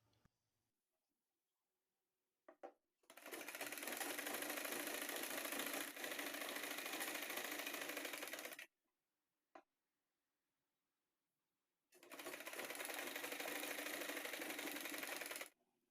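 A sewing machine stitches a folded waistband on a circular umbrella palazzo, running in two long, steady bursts of loud, fast mechanical whirring separated by quiet pauses and a brief click, with no talking.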